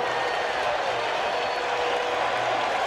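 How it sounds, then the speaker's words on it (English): Broadband crowd noise from spectators at a World Series game between the Boston Red Sox and New York Mets, a steady roar and cheer filling the stadium with no break. "This crowd has reason to cheer"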